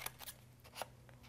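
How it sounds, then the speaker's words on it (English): A few crisp snips of scissors cutting paper while trimming a section of a handmade mini album, quiet, close and sharp with short gaps between cuts. "just going to take my scissors and just trim that section off there"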